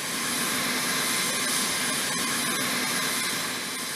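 Steady whining roar from the Allison T-56 turboprop engines of a C-130 Hercules during engine start, a loud continuous drone that holds level throughout.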